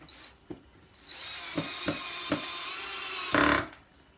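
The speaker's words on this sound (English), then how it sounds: "Get your screws in there really fast." A power drill drives screws into a wooden bar stool: short clicks and knocks, then a sustained whirring run with brief thumps, ending in a loud final burst as a screw seats, close up with no talking.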